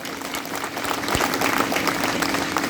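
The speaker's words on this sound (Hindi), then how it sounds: "अपने उपस्थित सभी लाभार्थियों का जोरदार तालियों से उनका अभिनंदन करें" Audience applause at a beneficiaries' meeting in Kunkuri, a brief steady crowd clapping that swells slightly midway and continues to the end.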